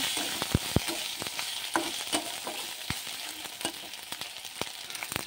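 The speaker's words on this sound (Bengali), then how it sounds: "এখানে আদা রসুন ভাজা হয়ে গেছে, তাতে টমাটো দিয়ে দিলাম। টমাটো দিয়ে ভাজা হবে।" Tomato sizzling in a pan of fried ginger and garlic, a steady hiss broken by sharp crackles and spatters at close range, with no voices.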